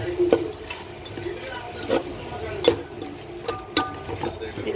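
Masala sautéing in a pan for banana-flower biryani, with a soft frying sizzle under repeated spatula scrapes and taps about once a second, close by, with a faint voice in the background.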